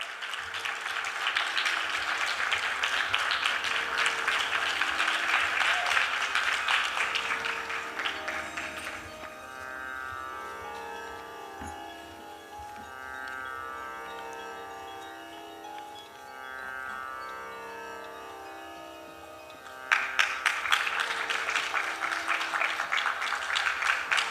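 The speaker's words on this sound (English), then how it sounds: "Put your hands together for Vishweshwar" Audience applause at a Bharatanatyam dance recital, a sustained burst of clapping that fades under soft instrumental music, then a fresh loud round of clapping returns near the end.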